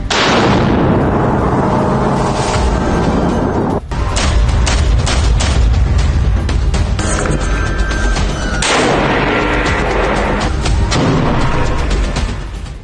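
Militant fighters' attack footage carries sustained heavy gunfire and explosions, loud and continuous with rapid bursts and booms throughout, barely pausing once near the middle.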